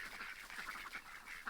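Geese on a farm being herded to bed at dusk, a quick run of faint nasal honks and quacking calls repeated in a rapid chattering rhythm, heard at a distance.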